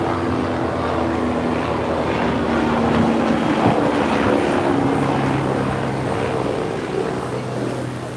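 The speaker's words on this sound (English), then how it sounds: "here's a helicopter" Steady mechanical rotor drone of a helicopter passing overhead at Orange Beach, Alabama, loud and continuous throughout with a low hum and wind rush.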